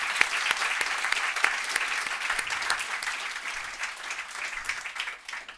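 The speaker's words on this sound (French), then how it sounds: "on peut les applaudir tous les trois très chaudement" A conference audience claps steadily and warmly, a dense wash of applause that thins out slightly toward the end.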